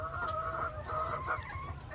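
Hens in battery cages cluck and murmur in a steady, busy chorus, with a few brief higher calls breaking through a constant low background hum.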